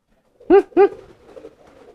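A newly acquired racing pigeon being handled gives two short, close, fairly loud coos in quick succession, followed by softer low murmuring.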